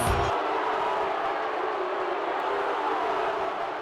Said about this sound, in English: just listen to the crowd's reaction to all of this